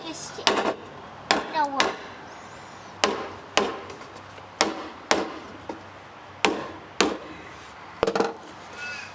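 Sharp hammer taps drive a bolt into a timber false floor, about nine crisp, evenly spaced strikes, some doubled, close by with a faint hum between them.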